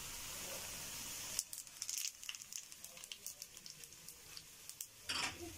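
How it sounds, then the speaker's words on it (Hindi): Cumin seeds drop into hot tempering oil with lightly fried garlic for kadhi pakora, setting off a sudden crackling sizzle that keeps popping and spitting, then swells into a brief louder burst near the end. "हल्का लहसुन जो है वो हो चुका है बघार का, अब मैं इसमें शामिल कर दूंगी ये जीरा।"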